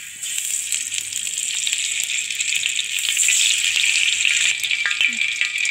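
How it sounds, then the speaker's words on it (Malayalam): Ghee hits a hot uruli pan over a wood-fired stove and sizzles in a steady, bright hiss that swells slightly, close and continuous with faint crackles. "അതിനായിട്ട് ഉരുളി അടുപ്പത്ത് വെച്ചിട്ട് നെയ്യ് ചേർത്ത് കൊടുക്കുകയാണ്."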